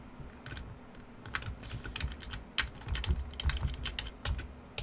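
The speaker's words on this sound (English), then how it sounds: "Just using the arrow keys to nudge till I'm happy." A computer keyboard's arrow keys tapped repeatedly in quick, irregular clusters of crisp clicks, close up and steady across a few seconds with no talking.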